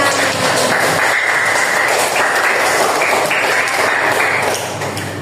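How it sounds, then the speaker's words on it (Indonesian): A classroom of students claps for a group's discussion presentation, a dense, steady patter of many hands at close range that tapers off slightly at the end. "Ayo tepuk tangan."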